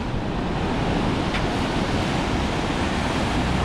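Sea waves surging up onto the shore, heard as a steady, loud wash of surf with wind buffeting the microphone throughout and no voices.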